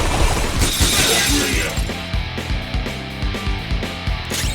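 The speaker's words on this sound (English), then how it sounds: "An enemy's frozen! Let's shatter it!" Frozen enemy shattering in Persona 5 Royal, a loud glassy crash at the start followed by game music, impact hits and layered battle effects.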